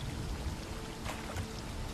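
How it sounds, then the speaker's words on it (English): An upward-flowing waterfall in The Witcher 3: Blood and Wine roars as a dense, continuous rush of water, loud and unbroken throughout. "A waterfall flowing upwards?"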